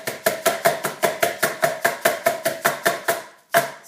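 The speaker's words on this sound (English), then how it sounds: "You want to give that one more tap" Peanut butter cup tray tapped repeatedly against a counter, roughly fifteen quick, sharp knocks in a steady even rhythm, close and fairly loud, then a brief pause and one final tap.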